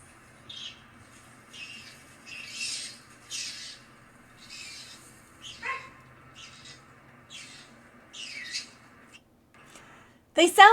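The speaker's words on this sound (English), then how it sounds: "They sound like birds." Repeated short squawks and chirps come in bursts with pauses between them, fairly close, mixed with a dog's barking, and a loud clatter at the end.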